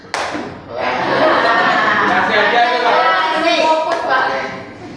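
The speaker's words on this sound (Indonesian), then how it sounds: "Tepuk satu." A room of adults playing a clapping game strike one sharp, loud collective clap, followed by a burst of group chatter and laughter.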